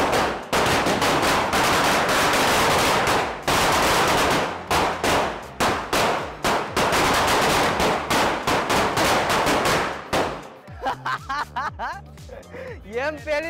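A Diwali firecracker battery goes off in a rapid, loud chain of sharp bangs and crackles, close by and continuous for several seconds. The blasts then thin into sparser pops, with voices toward the end.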